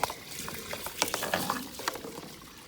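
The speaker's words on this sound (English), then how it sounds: "Let the water just pile in there every which way" Water from a garden hose trickles and patters as it pools in a backyard, a faint, continuous bubbling with small irregular splashes close by.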